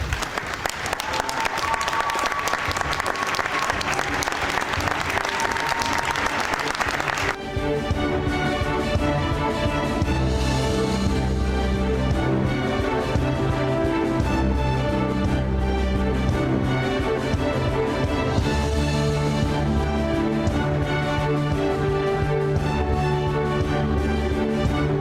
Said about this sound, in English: join me in a congratulatory round of applause